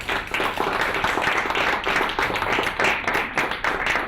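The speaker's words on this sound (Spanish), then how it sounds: "por lo menos un aplauso para los 3" An audience at a fantastic-literature conference in Argentina gives a short burst of dense, steady clapping after a talk, moderately loud and close, with no voices on top.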